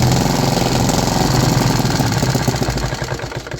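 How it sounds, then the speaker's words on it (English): A small 3D printed engine fitted with a hybrid piston starts and runs, a loud close rapid putter of firing strokes that holds steady and then slows slightly as the idle drops, with no voices. "There was a nice start on the very first crank, but the engine tried to run away"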